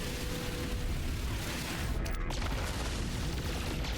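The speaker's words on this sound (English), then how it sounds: "Why am I shooting way faster now?" Anti-ship turrets in a sci-fi video game fire continuously, a dense rumbling barrage of booms blending into a constant loud roar.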